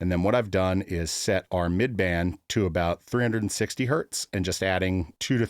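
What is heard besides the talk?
No everyday noises stand out.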